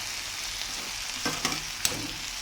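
Broad beans and tomato cook in a curry pan, a continuous soft sizzle and bubble with a few small pops and stirring clicks, close and even throughout.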